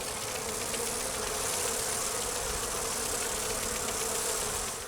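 A dense swarm of bees buzzes steadily and loudly throughout, triggered by a weapon's on-hit effect in the video game Dragon Age: Inquisition, with no talk over it.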